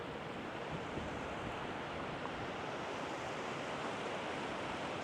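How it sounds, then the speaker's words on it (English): Steady wind roaring across an open campsite in Colorado, a dense broadband rush buffeting the microphone at an even level throughout, with no voices. "Find a way to get out of the wind."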